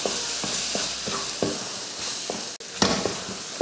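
Masala with ginger garlic paste sautés in oil for channa masala, a continuous sizzle with regular scraping stirs every half second or so, close up and with no one talking.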